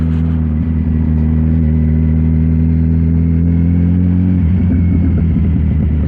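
Kawasaki Ninja 1000 motorcycle exhaust droning steadily while riding, shifting into an uneven, crackling babble near the end, loud and close.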